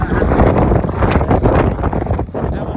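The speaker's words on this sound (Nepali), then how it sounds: "अलिकति अग्लो ठाउँ भएको कारणले गर्दाखेरि चाहिँ एकदमै हावाको वेग चाहिँ एकदम तीव्र रहेको छ" Strong wind on a high spot near the port on Okinawa, Japan, buffeting the microphone in a steady, loud roar with gusty surges throughout and a brief dip near the end.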